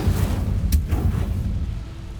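A fire spell, Incendio, cast in Hogwarts Legacy, bursting out as one whooshing blast about midway, set against a steady rumbling game background with no talk.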